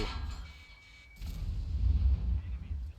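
A tank gun firing in World of Tanks as a Foch 155 tank destroyer battles: one deep, heavy boom bursts in after a quieter stretch, then a rumbling low tail lingers for a couple of seconds.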